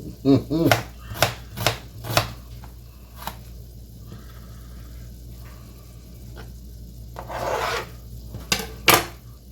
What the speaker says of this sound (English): The first thing we're gonna do is chop up our onion as fine as we can